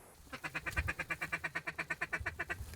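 Mallard ducks in a Manitoba marsh quack over a decoy spread in a rapid, steady run of about twenty nasal quacks, fairly close and clear, with no voices.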